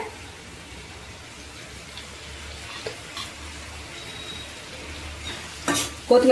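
Gongura curry with coriander being stirred in a pan, a low steady scraping and bubbling bed with a few louder clanks near the end, no talk.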